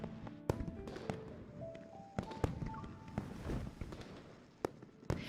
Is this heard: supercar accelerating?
no